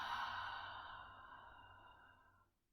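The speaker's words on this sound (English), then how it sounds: "Take a big breath in and exhale, draw the belly in." A single long, soft exhale follows a deep breath during a gentle seated yoga session, a close airy sigh that gradually fades out over a couple of seconds.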